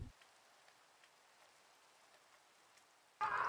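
Steady, soft rain in Minecraft, a continuous faint hiss with scattered light drop ticks, alone and low in level, ending with a sudden louder burst of sound.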